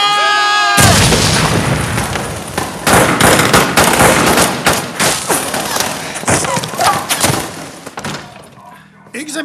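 Massed rifle volleys as marines fire at will in a war film, a dense crackling fusillade of overlapping shots rolling on for several seconds with booming impacts, loud and close, thinning toward the end.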